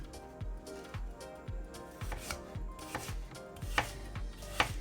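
A knife cuts apples into cubes on a cutting board in quick, rhythmic chops, about a dozen sharp taps in close succession. They are fairly quiet, with no talking over them.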